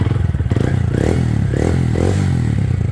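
A small Honda motorcycle engine with a Yoshimura exhaust idles steadily up close, a loud, even putter with a slight rattle and a few gentle rises in pitch.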